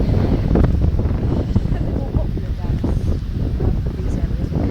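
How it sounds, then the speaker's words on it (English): Wind gusts buffet the microphone on Burnham Beach in August, a loud rumbling blustery roar filling the whole stretch, with voices in the background. "There's a bit of wind, so you can feel the wind."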